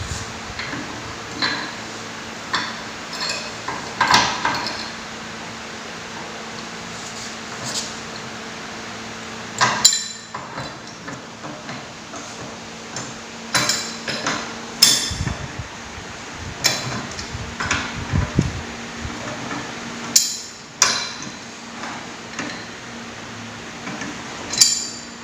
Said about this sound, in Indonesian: melepas baut track end dengan menggunakan kunci pipa